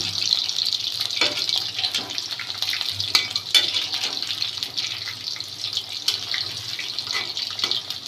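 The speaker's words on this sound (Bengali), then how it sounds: "এখন এক পিসটা ভাজা হলে তারপর অপর পিসটা উল্টে দিব" Steady, close bubbling and sizzling of chicken pakoras deep-frying in oil, with soft crackles and a few brief clinks throughout.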